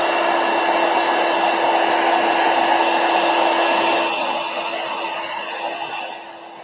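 A hair dryer blows a steady, loud whir with a fixed tonal hum while drying a watercolor painting close by, easing off slightly toward the end.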